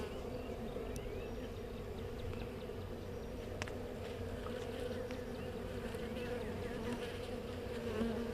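Honey bees buzz steadily and densely while a nuc is installed into a hive, a close, continuous swarm hum with individual bees flitting past the microphone and no talking.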